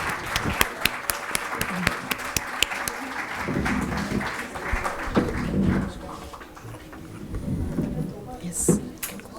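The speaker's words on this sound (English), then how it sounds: "A big round of applause for every one of them." Scattered clapping from a seminar audience, sharp claps early then a looser, thinner patter, with voices murmuring and talking through most of it.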